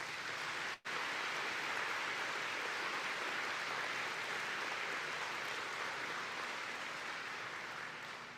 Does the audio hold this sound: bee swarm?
no